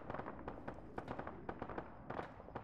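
A bomb exploding in the military video game Arma, heard as a faint, distant, crackling string of rapid pops and rumbling bursts, like secondary blasts rolling over each other.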